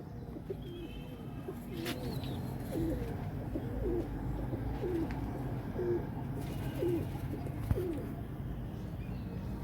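Pigeons coo steadily and repeatedly in a loft of banded pigeons, their soft rolling calls overlapping against a constant low background rumble, with no voices.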